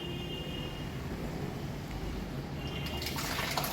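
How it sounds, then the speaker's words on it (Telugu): Water running steadily from a tap to feed a low-budget water geyser, a constant rushing flow that grows brighter and splashier toward the end. "హాట్ వాటర్ ఎప్పుడు కావాలనుకున్నా ఫస్ట్ ట్యాప్ ఆన్ చేయాలి"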